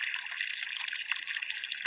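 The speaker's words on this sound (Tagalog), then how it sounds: "Ayan oh, tubig oh. Lumalabas sa balon oh." Water pumped by a solar-powered pump spills out of a well in a steady, close trickling gush, continuous and hissy with no voices over it.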